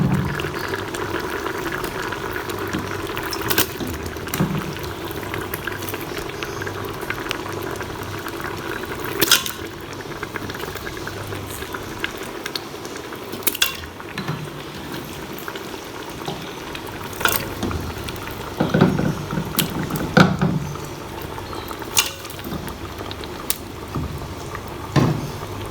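Chicken being fried in a pan with cooked garlic and onion for bhindi gosht, a continuous bubbling sizzle with occasional clinks and scrapes of a spoon, steady and close throughout.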